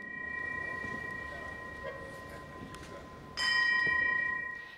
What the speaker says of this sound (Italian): seguito poi dai rintocchi della campana della pace